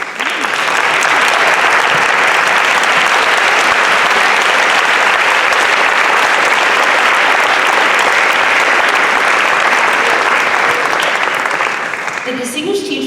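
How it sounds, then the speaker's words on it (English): A large audience at a teaching awards ceremony applauds past award winners, with loud, dense, continuous clapping sustained for over ten seconds before tapering off at the end. "I do ask this group to please stand while we applaud you"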